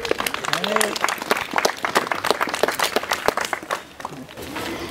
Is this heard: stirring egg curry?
no